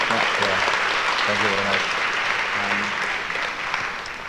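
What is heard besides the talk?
audience applause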